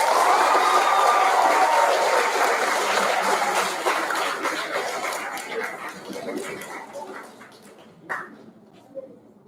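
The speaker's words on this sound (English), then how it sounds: "please give a big round of applause for Kinsey Tabor" A crowd at a sixth grade awards ceremony claps and cheers for a student award winner, loud and dense at first and then gradually thinning out and fading, with a few last scattered claps at the end.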